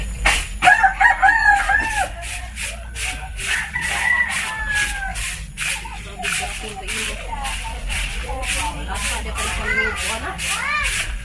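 Chickens cluck busily nearby with a rooster crow rising among them, accompanied by repeated sharp clicking or tapping noises throughout.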